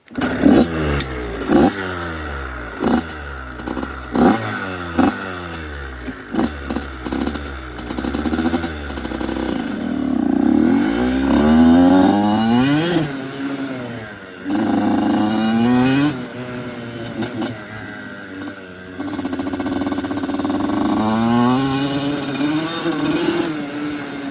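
A cold 2005 Yamaha YZ85 large-wheel dirt bike engine coughs through several stuttering start attempts, then catches and revs repeatedly, its buzzy two-stroke note rising and falling in close, loud bursts over about twenty seconds.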